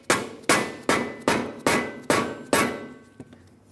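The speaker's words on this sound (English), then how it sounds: "hammering this in hopefully will help me drive the rest of it down." Seven sharp, evenly spaced hammer strikes ring out up close as wheel studs are driven into the rear brake backing plate of a 2003-2009 Dodge Ram 2500, followed by a lighter final tap.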